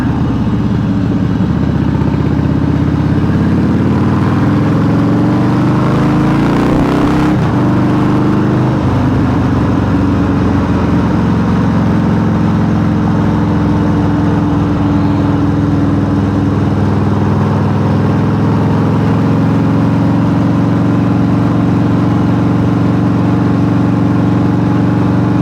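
Carbureted Harley-Davidson V-twin with a CV carb and some leaks, idling with a loping mid-range throb and a couple of throttle blips around the middle, steady and close, no popping.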